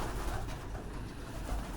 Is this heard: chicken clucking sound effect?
no